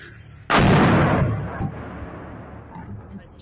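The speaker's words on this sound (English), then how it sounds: "A direct hit on a local substation in Belgorod, Russia." A missile or shell strike on an electrical substation in Belgorod, Russia, a sudden loud blast that rolls into a long rumbling decay with faint background noise, no talking.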